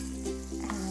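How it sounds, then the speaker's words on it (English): Close, continuous sizzling of ginger and garlic in a hot pan, a crackling fry with a low steady hum underneath. "I will add my ginger and garlic. Yes, you can hear it sizzle."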